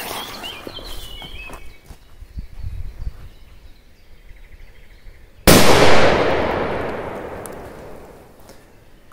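A Furor firecracker in a forest goes off with one sharp, very loud blast midway, followed by a long crackling, hissing decay. Before it come quiet rustling footsteps and scattered faint pops.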